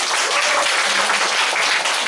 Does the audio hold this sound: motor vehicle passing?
no